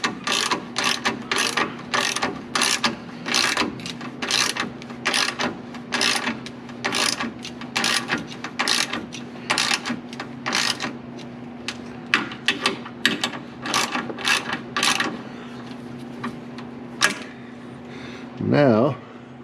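Hand ratchet loosening bolts on a 1972 Corvette: rapid bursts of close metallic clicking in a steady back-and-forth rhythm, repeated many times over a low hum, then stopping near the end.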